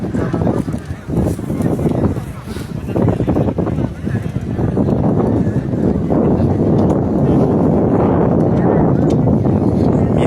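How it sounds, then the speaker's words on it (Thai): Outdoor wind gusts steadily and loudly into the microphone, a continuous rumbling buffet that swells and eases throughout. "ลมพัด"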